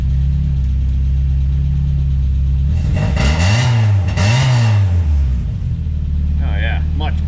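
A Mazda Miata engine cranks, catches and revs up twice before settling into a steady, fairly loud idle close by.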